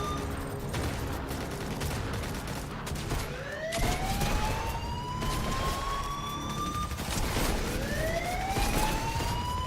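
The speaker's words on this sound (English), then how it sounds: "You can hear that siren." A wailing police-style siren in the Fortnite video game rises and falls in repeated sweeps, loud and close over a busy bed of gunfire and game noise, with no talking.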